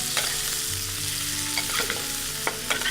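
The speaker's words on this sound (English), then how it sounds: "we're just going to start basting the fish" Halibut basting in sizzling, browning butter in a pan, a close, steady frying crackle with a few spoon clinks as hot butter is ladled over the fish, and no talking.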